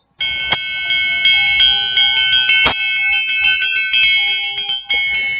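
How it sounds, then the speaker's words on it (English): A large ritual bell struck repeatedly, each ring blooming into a long shimmering tone, with one especially strong strike midway; no voices. "I also use a bell, and I just got this bell like the other day."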